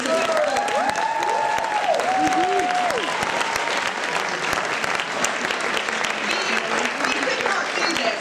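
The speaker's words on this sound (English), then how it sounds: "Please, a huge round of applause for Regent High School for putting this event forward." A school hall audience gives a long, loud round of applause for the host school at a student public-speaking final, steady clapping throughout with cheers and voices rising over it.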